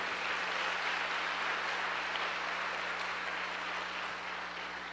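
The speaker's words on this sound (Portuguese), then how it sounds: "Você pode aplaudir ao Senhor, querido?" Church congregation applauding, a steady wash of many hands clapping at moderate distance, with a low hum running beneath.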